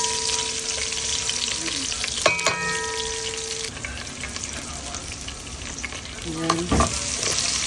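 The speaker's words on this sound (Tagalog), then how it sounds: "In the same pan, lagay tayo ng mantika. Gisa na tayo ng bawang sibuyas." Garlic and onion sautéing in oil in a pan, a loud continuous sizzle with stirring clatter and a brief spoken word over the frying.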